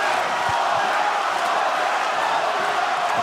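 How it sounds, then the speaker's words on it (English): A boxing arena crowd roars steadily as a heavyweight fight begins, a dense continuous wash of cheering and shouting with no breaks. "The crowd's coming alive."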